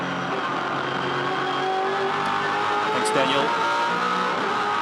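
A 2007 V8 Supercar race car engine drones at steady high revs around Eastern Creek Raceway, a continuous dense roar under a commentator's voice, with race cars blending into the background.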